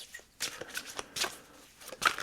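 Tarot cards being shuffled by hand, three quick riffling bursts with short pauses between, close and crisp with no talking.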